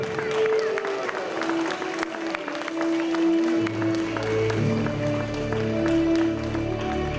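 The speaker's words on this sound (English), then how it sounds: "Let's clap once again for Prerna." A crowd of parents and guests applauds continuously at a children's annual day school function, sustained clapping with a tonal backing sound running underneath throughout.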